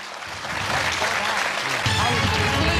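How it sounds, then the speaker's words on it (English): A game show studio audience claps and cheers after a correct answer, a loud, sustained burst of applause that swells toward the end. "Trisha claps her husband."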